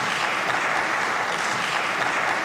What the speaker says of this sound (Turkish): O sözler meclis salonunda hem HDP'liler hem de CHP'liler tarafından büyük alkış topladı